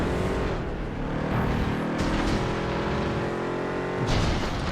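Racing car engine in the PS2 video game FlatOut 2, a steady loud roar with shifting pitch and a few sharp bursts, heard alone without talk.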